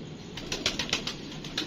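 A handled female pigeon flaps its wings in short rapid bursts, several quick papery flutters close by against a quiet background.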